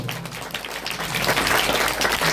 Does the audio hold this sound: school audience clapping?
yes